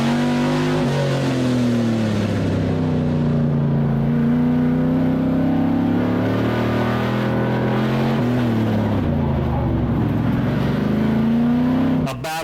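Race car engines howl around a dirt track at Auburndale, a loud continuous drone whose pitch slides up and down as the cars accelerate and lift, with commentary running underneath.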